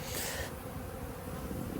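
Honeybees buzzing inside a winter hive, a dense continuous drone, close and steady, with a brief brighter hiss at the start and no talk.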